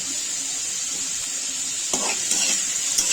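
Onion sautéing in a pan with ginger-garlic paste for a dry Kokani chicken dish, a steady close hiss of frying with a few soft stirring scrapes near the end.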